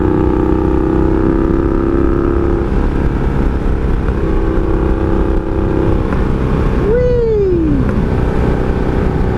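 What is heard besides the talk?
1982 Honda Magna V45 VF750C motorcycle engine while riding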